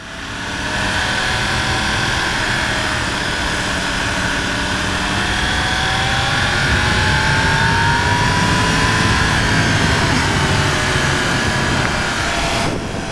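A 2020 Yamaha YZF-R1 sport motorcycle accelerating hard at high speed, its engine a loud, sustained roar whose pitch climbs steadily through the run, with wind rush underneath and no talking.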